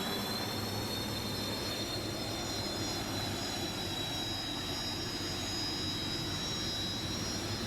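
A steady, loud roar from an unlimited hydroplane's 2,650-horsepower jet turbine engine, with a high whine riding over it, continuous and unbroken throughout, with no voices.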